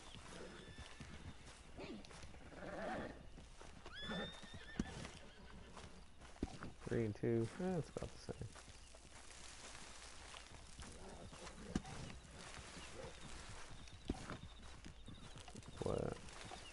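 Horses in Red Dead Redemption II neigh and clip-clop at moderate volume, with a sharp whinny burst midway, beneath a player's casual talk.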